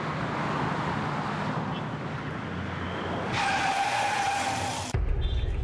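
A car swings around on a link road, its tires skidding and squealing in a sustained, loud screech over a rough engine roar, then cutting off abruptly.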